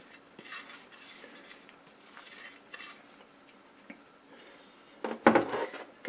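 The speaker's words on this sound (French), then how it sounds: "Je vais mixer tous mes ingrédients ensemble." A utensil stirring fish batter ingredients and flour in a bowl: soft, steady scraping and mixing, faint and continuous, ending in a few louder clinks and knocks against the bowl.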